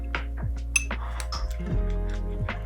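A spoon clinks against a bowl several times while mala sauce, corn syrup and black sesame are mixed, giving light, close taps over a low steady hum.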